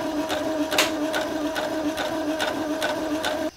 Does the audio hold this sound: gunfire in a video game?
no